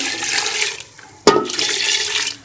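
A glass of water poured into a pressure cooker holding beef with onion, ginger-garlic paste, salt and turmeric, a rushing splash with a sharp burst in the middle, heard alone at moderate loudness.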